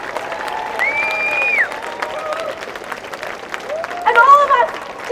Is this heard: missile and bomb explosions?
no